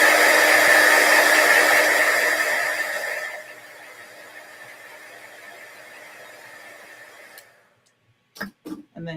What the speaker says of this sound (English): I'm going to quick heat set this. It is a pigment.